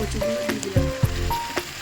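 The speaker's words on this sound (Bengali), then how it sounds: "আর বাকি সবজিগুলো সব দিয়ে দিয়েছি ভালো ভালো ভাজা ভাজা করে আছে ভাজা" Mixed vegetables, including pointed gourd, fry in a pan for a curry with prawns. A loud, close sizzle is broken by several sharp knocks and scrapes of a stirring spoon.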